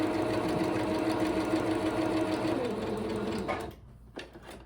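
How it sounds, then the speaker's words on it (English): A sewing machine runs steadily, stitching fabric onto a cotton t-shirt for a zippered pillow sham, a loud continuous motor whir that stops near the end, leaving a few faint handling sounds. "So I am going to sew it to the t-shirt first, and then come back and sew the strips together."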